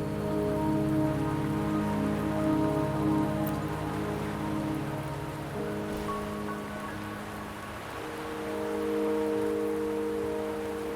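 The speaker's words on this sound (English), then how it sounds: "Don't worry, the rain won't last much longer." Steady rain falls in the video game Wuthering Waves, a constant soft hiss of drops on surfaces with a sustained musical drone beneath, no voices.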